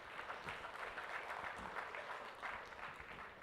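A steady wash of applause fills a conference hall during a chartered accountants' conference, the dense patter of many hands sustained evenly and at a fairly low level throughout, with no voices breaking through.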